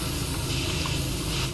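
Loud, steady pressure-washer spray from the PowerWash Simulator game hisses continuously up close, a broad unbroken rush of water jet noise without any speech.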